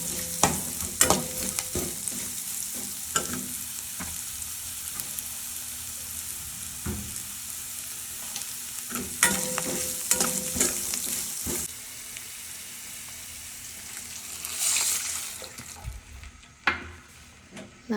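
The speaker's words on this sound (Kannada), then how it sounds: "ಇದೆಲ್ಲ ನೀಟಾಗಿ ಫ್ರೈ ಮಾಡಿಕೊಂಡು ಇದಕ್ಕೆ 2 ಕಪ್ ವಾಟರ್ ಆ್ಯಡ್ ಮಾಡಿ." Shavige (vermicelli) sizzles and fries in a pan while a spoon stirs and scrapes against the metal. A hiss rises when water is poured in, followed by a few clinks near the end.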